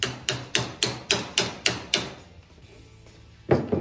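A hammer taps a socket onto a PVC pole for a snare, eight crisp evenly spaced strikes close by, a pause, then one more knock at the end.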